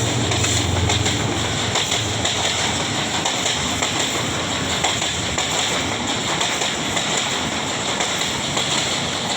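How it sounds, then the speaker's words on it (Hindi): The Awam Express passenger train, running from Peshawar to Karachi, rolls into the station with a steady, dense rumble and hiss that fills the whole stretch without a break or any voices. "ये आ रही है जी अवाम एक्सप्रेस आ रही है, पेशावर से आई है और कराची जाएगी"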